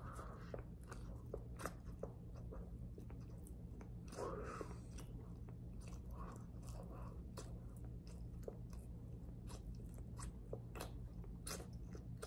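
Close, steady chewing of an untoasted Thomas cinnamon raisin bagel, soft doughy mastication with small crunchy bites repeating quietly over low background hum, no talking.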